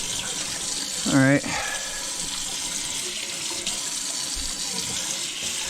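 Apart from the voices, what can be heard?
tap water washing harvested mullein leaves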